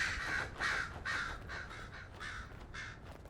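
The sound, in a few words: crows cawing in the video game Dragon Age: Inquisition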